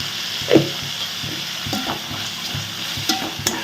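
A spatula scrapes and turns a beans poriyal stir-fry with salt in a hot kadai, giving a low sizzle with several distinct clinks and knocks against the pan, close up and with no voices.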